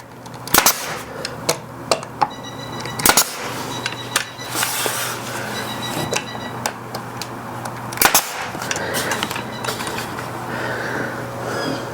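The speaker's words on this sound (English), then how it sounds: "then we can shoot the brad nail in to hold it in place." A brad nailer fires nails into picture frame moulding on a wall, producing sharp, loud pops spaced irregularly a second or two apart over a low steady hum, close by, with no talking.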